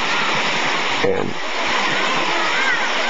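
Waterfall at Pagudpud with water coming down fairly lightly, a steady broadband rush filling the scene throughout, with a brief splash-like burst near the middle and a voice speaking briefly over it.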